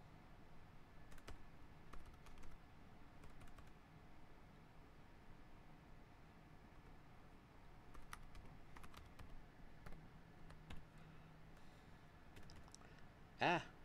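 Typing on a computer keyboard comes in scattered bursts of light key clicks, quiet and close, over a faint hiss, with a brief louder sound at the very end.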